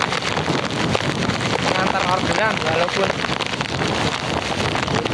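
Heavy rain and strong wind on New Year's Day in Indonesia roar in a dense, constant wash of rain noise and wind buffeting the microphone, with someone talking briefly underneath.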